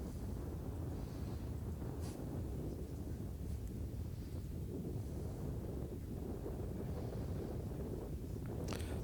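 Wind blows across an open golf course, buffeting the microphone with a steady low rumble and a hissing roar that rises and falls faintly over nine seconds, with no voices.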